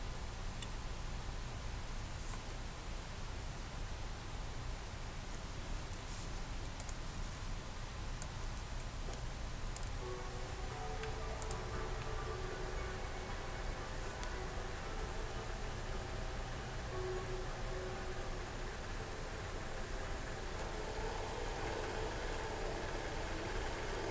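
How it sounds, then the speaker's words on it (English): A large 80 grit drum sander shapes a knife handle, giving a steady, continuous grinding whir that stays loud and even throughout with no voices. "Use a large 80 grit drum sander for this effort."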